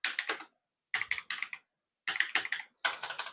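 Keys tapped on a computer keyboard while entering figures into Tally Prime accounting software, four short bursts of quick clicks separated by brief pauses, close and fairly quiet.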